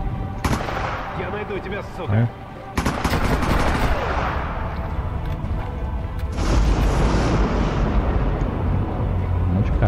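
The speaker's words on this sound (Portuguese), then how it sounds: "Eu só vi o barulho da bala, cara." Rapid gunfire in Sniper Elite V2 rattles in dense bursts with heavy booms layered over a continuous roar, briefly cutting out before resuming, while a voice speaks a short word.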